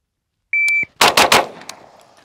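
A Grand Power Stribog SP9A3S fires three quick, loud shots in a tight burst right after a short electronic start beep, with the echo fading away after the last round.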